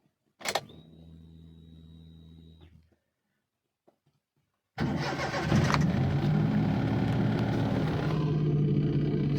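A Mahindra Bolero pickup's engine is cranked and catches, settling into a steady, fairly loud idle after an electric whir and a brief pause inside the cab.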